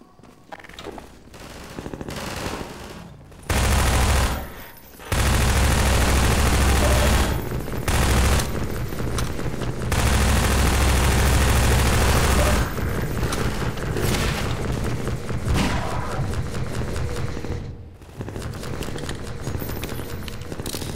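Heavy gunfire and explosions fill a Half-Life 2 city battle, with dense bursts of machine-gun fire, booming blasts and brief lulls, loud and continuous over about twenty seconds.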